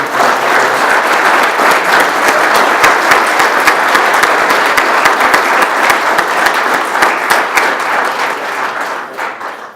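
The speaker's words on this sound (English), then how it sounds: "Join me, if you will, in a round of applause for these wonderful." A loud, sustained round of applause from an audience at a Bills & Bagels gathering honoring senators and representatives, dense steady clapping with no talk over it, tapering slightly at the end.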